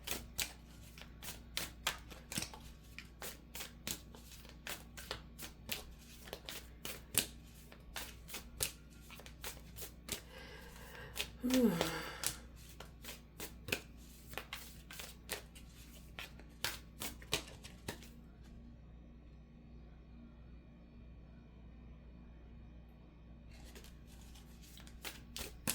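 A deck of playing cards shuffled by hand, close up: rapid riffles and snapping flicks repeat in quick bursts, with a brief louder riffle midway and a quieter stretch near the end.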